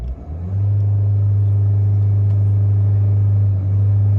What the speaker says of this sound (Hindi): अभी जब मैं इसको एक्सेलरेट करूंगा